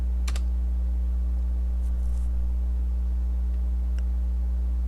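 Short bursts of computer keyboard typing, close and light clicks, over a steady loud electrical hum that runs throughout with no speech.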